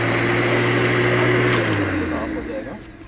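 Corded electric lawn mower running steadily with a droning motor whine, close and loud, winding down slightly toward the end.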